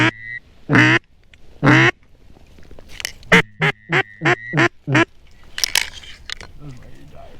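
Diving ducks quacking on a flooded public-land marsh in Kansas during a hunt, with a burst of loud, closely spaced calls in the middle and a few earlier honks, mixed with voices.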